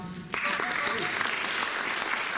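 Studio audience applause opening a live climate forum roundtable broadcast in Quebec, a burst of steady clapping starting abruptly after a brief musical lead-in and continuing evenly.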